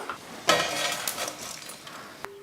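Clanks and scrapes of a ladle and metal vessel as fried mutton is moved into a cooking pot, a sharp knock early on followed by lighter utensil clatter, close and moderately loud with no talking.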